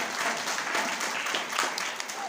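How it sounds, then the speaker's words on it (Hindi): An audience at a Sunday church fellowship meeting claps together in a dense, steady burst of applause that carries through the whole short stretch. "इसके लिए ताली बजा दो"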